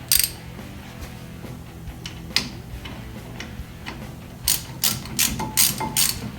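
A ratchet snugs down brake caliper hardware while a Baer SS4 brake system is installed, with a quick series of close, crisp clicks, sparse at first, then fast bursts near the end.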